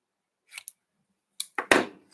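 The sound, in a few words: scissors cutting cardstock diagonally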